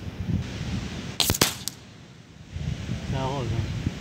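A single sharp gunshot cracks out on a beach as a rifle is fired at a 25 m target, followed by a couple of quicker echoing reports, with wind noise and a brief voice afterward.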